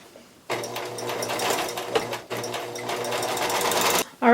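A sewing machine stitches a quarter-inch seam in fabric in two steady close bursts, its rapid mechanical whir broken by a brief pause in between.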